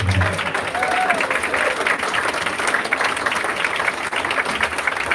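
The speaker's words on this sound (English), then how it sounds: "Let's give Larry another big round of applause" A political potluck dinner audience applauding a speaker being welcomed, steady broad clapping from a crowd that holds an even level throughout, with faint voices mixed in underneath.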